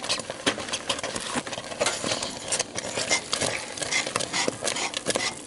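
Cheese being stirred into chicken alfredo pasta sauce in a pan, with steady scraping and stirring clatter and a soft sizzle underneath, close and continuous without talk.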